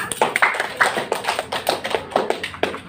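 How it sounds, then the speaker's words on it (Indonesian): A classroom of students clapping together in a steady, rhythmic unison beat, each crisp clap evenly spaced and close, with no talk over it. "Oke, tepuk tangan untuk kita semua."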